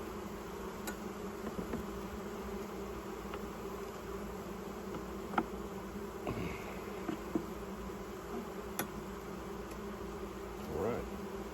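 Honey bees buzz steadily around an open hive on a new homestead during hive setup, a continuous low drone with occasional closer passes and faint handling knocks.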